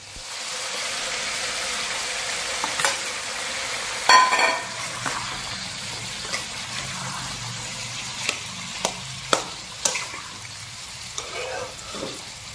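Chopped onion and tomato hit a pan of frying chicken gizzards with a steady sizzle, broken by a louder splash and a few sharp clinks of stirring.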